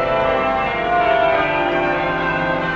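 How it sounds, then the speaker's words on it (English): Church bells ring as a story-tape sound effect, a dense, loud overlapping peal of sustained metallic tones that carries evenly throughout, with no voices. "Then the church bells rang"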